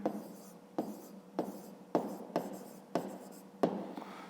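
Pen strokes scratch across paper in a steady series of about eight short bursts while a math solution for a fifth-grade exercise is written out, close and clear with no talking.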